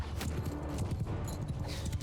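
Cavalry horses charging in Mount & Blade II: Bannerlord, a rapid drumming of many hooves under continuous battle din.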